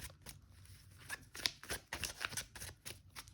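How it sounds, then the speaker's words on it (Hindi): Tarot cards are shuffled and drawn by hand during a weekly horoscope reading, giving a close, irregular run of papery riffles, flicks and slaps with no talking. "सो मंडे टू संडे तक के लिए मैं एक एक कार्ड यहाँ पर निकालूंगी।"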